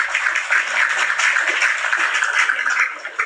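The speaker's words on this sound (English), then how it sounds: "let me give you a round of applause" Round of applause for Mr. Aloba, a steady dense wash of many hands clapping that holds at an even loudness throughout, with no talking on top.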